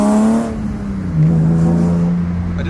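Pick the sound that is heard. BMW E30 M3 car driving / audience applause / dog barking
BMW E30 M3 car driving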